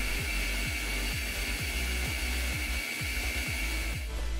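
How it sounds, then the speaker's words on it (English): A drill bores a 3 mm hole through a small aluminum washer, a steady close whir with a regular repeating pulse throughout and no talking. "Now I drill a 3 mm hole to put M3 screws in without thread."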